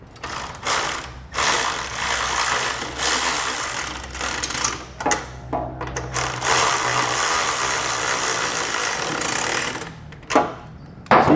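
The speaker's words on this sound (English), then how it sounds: "now I'm going to come back with my socket there and just snug them up" A ratchet socket wrench snugs bracket nuts for aftermarket round nerf bars on a 2022 Nissan Frontier pickup, its rapid pawl clicking running in several close, loud bursts separated by short pauses.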